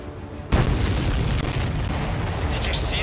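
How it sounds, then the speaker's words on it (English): A loud explosion in the Ace Combat 7: Skies Unknown flight combat game, a sudden booming blast followed by a sustained rumbling roar that fills the remaining seconds. "Did you see that explosion?"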